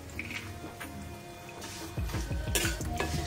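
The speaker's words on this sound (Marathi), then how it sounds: "खरपूस अशा इथे आपल्याला ह्या शेवया भाजायच्या आहेत।" Vermicelli and dry fruits being roasted in a pan for sweet kheer, with a faint dry crackle and scraping of a spoon against the pan that grows louder and busier in the second half; no talk.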